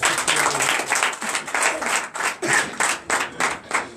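French-speaking church congregation at Sunday worship clapping in acclamation to Jesus, loud rhythmic bursts of hand claps in a regular pulsing beat, close and lively with little talk.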